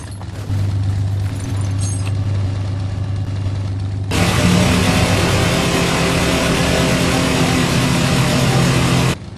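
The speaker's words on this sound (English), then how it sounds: "The British Cromwell is infamous for using an aircraft engine, and so I gave it aircraft noises." In the Minecraft Flans Mod game, a British Cromwell tank gives off an aircraft-style engine drone that jumps abruptly to a loud, dense roar midway and holds steady before cutting off.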